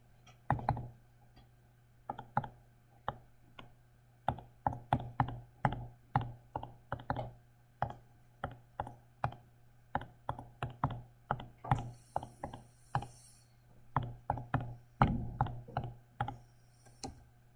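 Numbers are keyed into a calculator in a physics class, heard as a long, fairly steady run of quiet, crisp button clicks with short pauses and no talking.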